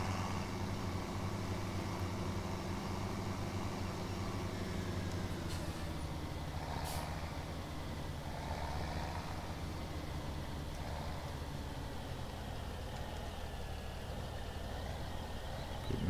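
Steady low engine drone of a tractor idling in Farming Simulator 17, a continuous rumble with no talk, holding even from start to finish.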